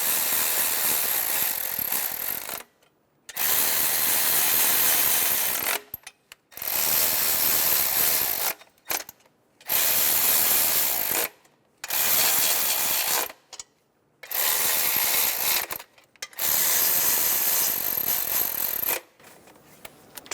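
A ratchet wrench snugs down the bolts on a 2003-2007 Honda Accord fuel injector rail, in seven bursts of rapid, loud clicking, each lasting about two seconds and separated by short silences.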